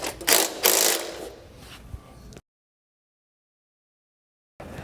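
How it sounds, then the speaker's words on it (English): Bolts on a ramp and surround section are tightened with an 18mm wrench, producing close, loud ratcheting and metallic clatter for about two seconds before cutting to silence. "now we tighten all these bolts up"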